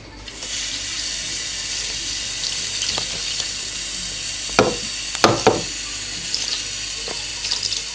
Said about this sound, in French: Maintenant que le riz est rincé, on le recouvre d'eau pour le cuire.